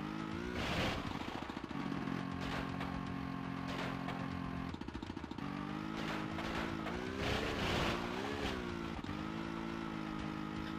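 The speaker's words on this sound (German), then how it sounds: "Lara, wir nehmen jetzt mal das Schneemobil und fahren wieder zurück" A snowmobile in Tomb Raider 2 drones along steadily, its engine pitch rising and falling as it accelerates and eases off, loud and continuous throughout with no speech.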